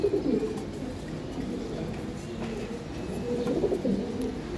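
Racing pigeons of the high-flying giribaz breed coo in low, steady murmurs, several birds overlapping in a continuous soft rumble close by.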